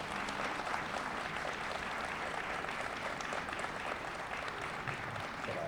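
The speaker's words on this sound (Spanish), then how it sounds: "yo sí creo que me merezco un aplauso" A steady wash of clapping from a seated audience at a book fair presentation, continuous and even throughout, fairly faint and without voices.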